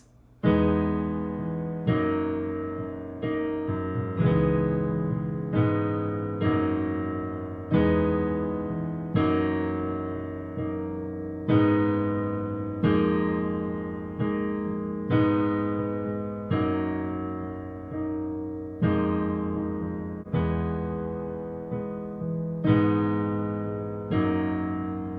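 Solo piano plays a song at full tempo, with repeated struck chords in a steady rhythm and added little rhythm and color notes, close and clear with no talking.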